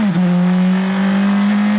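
A Praga race car engine revving hard on a race track, one loud sustained high-pitched roar that holds steady and close with no voices.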